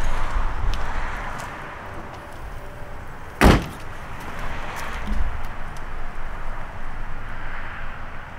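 The trunk lid of a 2019 Ford Mustang GT, fitted with a Speedform GT350 wing, is shut with a single solid thud midway through, standing out against a steady low background rumble.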